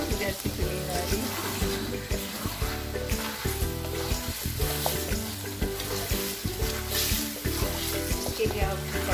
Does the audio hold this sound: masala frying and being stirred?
yes